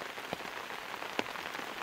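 Steady, heavy rainfall in a village in Nghe An, Vietnam: a continuous wash of drops drumming on nearby surfaces, broken by a couple of sharper, louder hits, with no speech.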